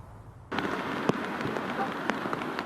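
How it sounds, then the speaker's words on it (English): Pouring rain drenching Santa Maria, a steady broadband hiss of heavy rainfall that starts abruptly after a brief quiet moment, with scattered louder drips and splashes punctuating the dense, continuous downpour. "A pouring rain drenches Santa Maria, giving the city a good soaking."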